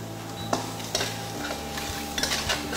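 Shrimp sautéed without oil in a Saladmaster pan, stirred with a utensil that gives a few sharp clicks and scrapes against the metal over a faint steady hum, close by.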